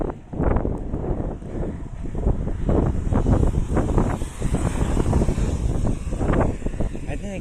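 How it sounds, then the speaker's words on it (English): Strong wind gusts buffet the microphone outdoors, producing loud irregular low-pitched rumbling bursts that come and go in a rough rhythm, with a voice faintly under the noise. "I didn't expect it to be this windy."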